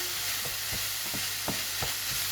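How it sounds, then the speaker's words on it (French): Minced meat frying in a pan while being stirred and mashed into small pieces, with a steady sizzle under repeated soft scraping strokes of a spoon, each about half a second apart, close by. "Donc vous n'hésitez pas à écraser les petits morceaux de viande."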